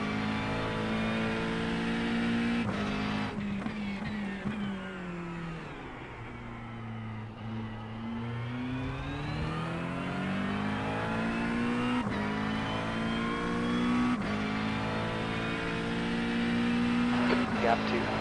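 Race car engine in a GT3 racing game runs loud and close, its pitch dropping through a sequence of downshifts before climbing again under acceleration, with a voice talking over it.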